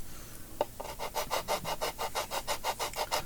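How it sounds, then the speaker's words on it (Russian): Fine sandpaper rubs a small corner made of animal glue mixed with oak sawdust in rhythmic back-and-forth strokes, about a dozen even passes, close and soft with no talk. "С помощью мелкой шкурки я формирую уголок из вот этой смеси животного клея и дубовых опилок"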